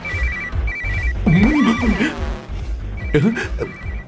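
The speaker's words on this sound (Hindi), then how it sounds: "इस वक्त दीदी का फोन।" A phone rings in repeated trilling bursts during a dubbed South Indian action film scene, heard clearly with loud music and voices overlapping in the middle.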